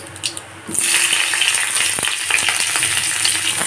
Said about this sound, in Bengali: পেঁয়াজগুলোকে ভেজে নেবো